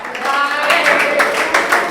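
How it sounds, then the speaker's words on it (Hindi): A group of students claps for a classmate's birthday in a classroom, giving a brief, dense patter of many hands that holds steady throughout. "सब लोग तालियां तो बजा दो ढंग से"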